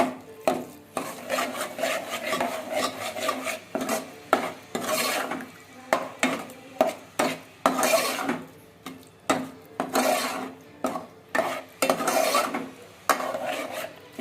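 Amti curry with kokum and jaggery stirred in a pot, a ladle scraping the metal in a steady run of strokes with brief pauses, close and fairly loud, no talk.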